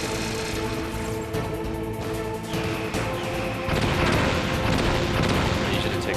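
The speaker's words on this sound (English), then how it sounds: "I'm actually throwing the wrong grenades." Grenades explode during a boss fight in the video game Metal Gear Solid, with heavy booms and crashes over a dense, droning game soundtrack, the blasts growing louder partway through.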